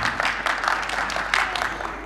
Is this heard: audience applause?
yes